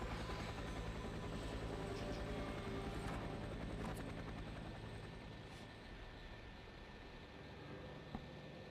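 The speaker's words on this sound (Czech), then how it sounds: "Víš jako, že ten vrtulník neodletí, no?" Helicopter in the video game F.E.A.R. 3, a steady rotor and engine drone hovering nearby, continuous and fairly loud with faint distant gunfire crackles mixed in.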